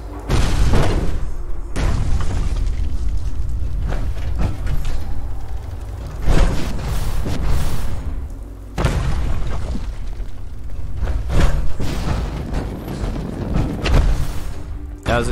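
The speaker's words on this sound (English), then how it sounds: "Who is even shooting at me?" Gunfire and explosions from the video game Fallout in a fight between the Enclave and the Brotherhood, heard as repeated loud booming bursts and rattling shots in clusters over a steady game din, with no talking.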